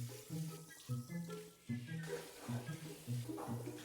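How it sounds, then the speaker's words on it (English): Shower water running during a bath for an Australian Labradoodle at a grooming session, a steady hiss of spray with water splashing, and background music playing throughout. "Until the shower turned on."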